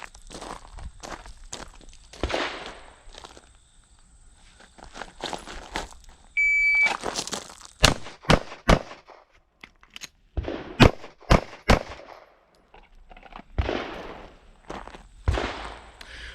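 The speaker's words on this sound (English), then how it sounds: "I'm going to draw, fire 3 rounds after taking that flanking step" Handgun shots at close range during a law-enforcement handgun qualification course of fire, sharp cracks in small clusters with quiet gaps between them, plus a faint timer beep.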